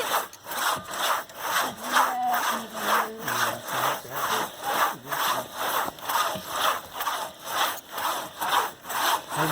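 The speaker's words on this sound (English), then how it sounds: "Speed sawing." Fast, rhythmic back-and-forth strokes of a hand saw cutting through wood, loud and close, with a steady rasping beat and no talking.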